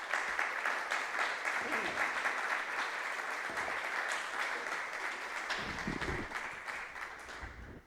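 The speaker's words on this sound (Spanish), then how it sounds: "para el que pido un aplauso, por favor" Audience at a talk and hurdy-gurdy performance clapping steadily for the sound technician, a dense, even round of applause in a hall that thins and fades toward the end.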